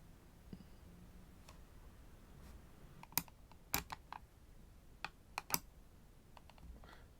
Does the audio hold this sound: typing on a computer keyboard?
yes